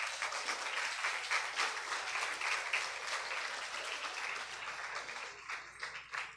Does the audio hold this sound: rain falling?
no